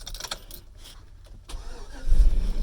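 A 2003 Chevrolet Silverado pickup's engine starts up close by, with a short stretch of quiet cranking before the motor catches and rumbles louder near the end.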